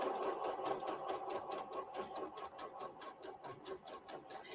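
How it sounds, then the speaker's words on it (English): A sewing machine stitches a quilt block for a Northern Star pattern, running steadily and continuously throughout with a fast, even pulsing rhythm, close and fairly quiet. "Make sure you're sewing from the middle down"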